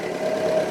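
1954 Ford NAA tractor engine running at a steady idle, a brief continuous mid-pitched drone with even throbbing, close and fairly loud, no talk over it.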